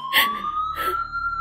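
An ambulance siren wails in a steady rising tone, a clear tonal whine with harmonics held across the clip, joined by brief bursts of noise from nearby traffic.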